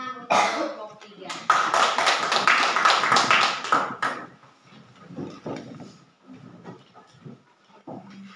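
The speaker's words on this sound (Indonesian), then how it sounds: "Mari kita tepuk tangan untuk kelompok 3" Classroom applause for the third student group, a burst of clapping lasting a few seconds near the start, then fading into scattered sounds and voices talking.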